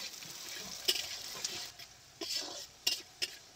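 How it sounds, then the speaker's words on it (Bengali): Chopped onions fry in a pan for a village-style mutton curry, a soft sizzle broken by several sharp scrapes and clinks from a spoon against the pan. No one speaks. "পেঁয়াজটাকে এখন লাল লাল করে ভেজে নেব।"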